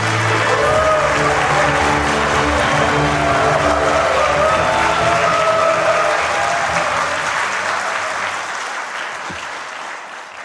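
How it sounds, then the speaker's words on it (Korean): A large crowd at a Saemangeum investment ceremony cheers and applauds loudly for Hyundai chairman Chung Eui-sun, a dense roar of clapping and shouts that holds strong for most of the stretch before tapering off. "우리 정의선 회장님한테 하는 환호죠?"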